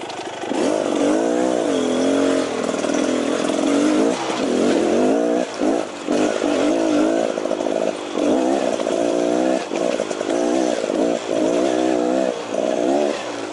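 A 2018 Beta Xtrainer 300 two-stroke dirt bike rides through wooded terrain, its engine buzzing loudly and rising and falling in repeated revving bursts as the rear tire spins. The revs come in an uneven, choppy rhythm with no talking.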